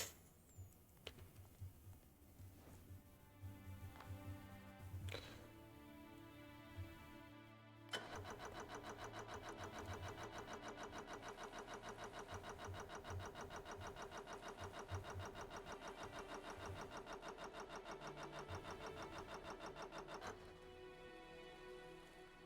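Vehicle engine in Stormworks starting up and then running steadily under throttle, a dense sustained drone with a buzzy mechanical texture that holds for about twelve seconds before easing off.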